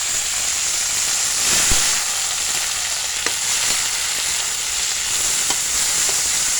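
Mushrooms fry in hot oil in a pot, a loud, continuous sizzling hiss with occasional sharp crackles and pops, close by and with no talking.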